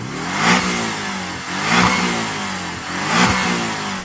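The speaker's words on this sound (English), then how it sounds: "Shall we have a listen to that 4-cylinder? Go on, 4-cylinder Cayman." A Porsche 718 Cayman four-cylinder turbo engine revs three times in a steady rhythm, each blip rising and falling back toward idle, loud and close with no talk.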